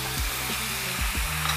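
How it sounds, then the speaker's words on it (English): Chicken sizzles steadily in a hot pan, stir-fried with coconut aminos, while a utensil scrapes and stirs it a few times, a continuous frying hiss close up. "keep stir frying the chicken"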